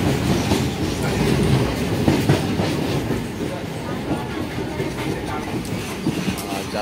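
Local train running from Arambag to Tarakeswar, heard from inside the carriage as a steady loud rumble with a rhythmic clatter of wheels on the track.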